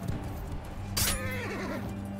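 A horse whinnies sharply in the middle of a Bannerlord battle, a loud descending neigh with a quivering tail, set over a steady low hum and faint clip-clop of game noise.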